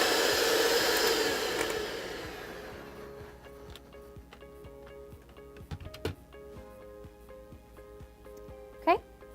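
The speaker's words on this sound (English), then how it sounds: "I'll be using a handheld mixer on about a speed 2" A handheld mixer on medium speed whips egg whites for a keto raspberry meringue, whirring loudly for about three seconds before cutting off. Scattered clicks and taps from the bowl follow.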